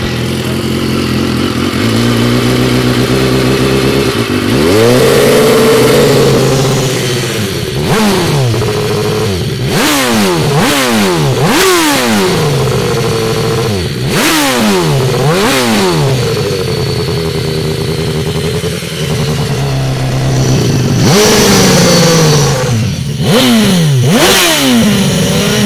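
A warmed-up motorcycle engine, recorded close and loud, revs repeatedly in sharp bursts that rise and fall back to idle, with longer climbs at the start and near the end.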